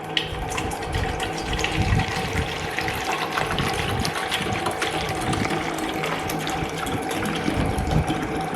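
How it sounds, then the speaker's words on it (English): Water runs into a plastic garden sprayer bottle as it is filled for mixing bonsai fertilizer, a steady gushing splash with a faint mechanical hum underneath, continuous and close throughout. "5 ml into this sprayer. And 1 liter of water."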